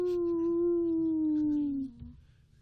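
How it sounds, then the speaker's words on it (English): A dog howls in one long, loud, sustained wail close by, gradually sliding lower in pitch before breaking off into a few soft trailing sounds. "That was a dog."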